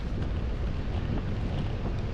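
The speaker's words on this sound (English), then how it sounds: "the wind is blowing directly in my face" Strong wind buffets the microphone while a rider slowly cycles uphill at about 4 miles an hour during a gran fondo ride, a steady loud broadband rumble and roar filling the whole stretch with no voices.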